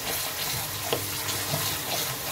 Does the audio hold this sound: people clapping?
no